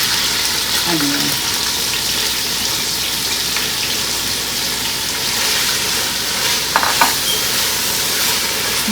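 Onion and green chili frying in a pan, a constant loud sizzle with occasional stirring scrapes and a brief clink near the end, no voices over it.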